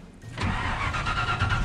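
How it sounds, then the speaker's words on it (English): A pickup truck engine cranks and catches, then settles into a rough, steady running rumble, close by with no talk. "But I am going to start my truck."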